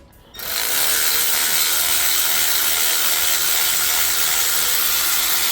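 A ratchet fitted with an inverted Torx E8 or 6mm socket clicks in a fast, continuous, loud buzz while working on a Toyota Corolla E210 water pump housing, running steadily close to the mic after a brief quiet start.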